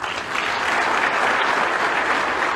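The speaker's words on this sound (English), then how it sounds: "So let's give a round of applause to ourselves" Lecture audience at a public talk applauds in a full, even burst of many hands clapping at once, loud and close, lasting a couple of seconds without speech.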